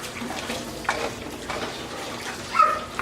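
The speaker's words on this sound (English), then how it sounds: "Turn my water on for my noodles." A kitchen tap runs to fill a pot with water for cooking mac and cheese noodles: a soft, fairly quiet flow with a few brief, louder splashy bursts.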